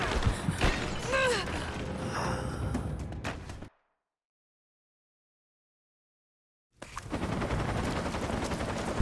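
Gunfire during a combat scene in the Rise of the Tomb Raider video game, bursts of shots and mechanical clatter over the first few seconds, then silence before game noise resumes.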